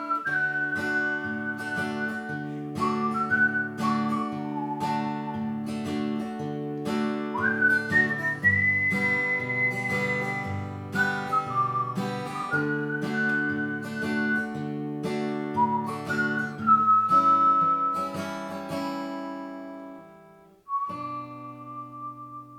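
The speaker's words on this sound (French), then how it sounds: "Moi, je vais siffler." A person whistles a song's intro melody over a strummed guitar accompaniment; the whistled tune is clear and close, and it drops out near the end while the guitar briefly continues.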